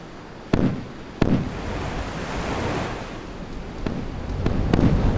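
SM2 missiles launch from a frigate in the Sea Power naval combat game. A few sharp, booming launch blasts are followed by a long, rushing roar that sounds like surf, with no talking.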